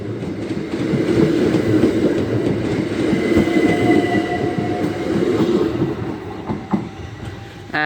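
Class 375 electric multiple unit passing a level crossing at Deal, rolling by close with a steady rumble, rhythmic wheel clatter and faint squeal as it fades, no talking.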